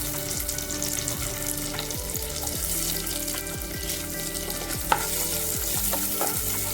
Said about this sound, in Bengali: এর মধ্যে আমি এবার কাজু কিশমিশগুলোকে একটু ভেজে নেব।